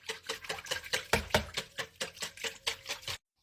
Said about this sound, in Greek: Τώρα ανακατεύουμε να πάει παντού η μαγιά και το προζύμι.